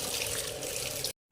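Saluyot leaves washed under running tap water make a steady, close hiss of flowing water into a sink, then stop abruptly into silence.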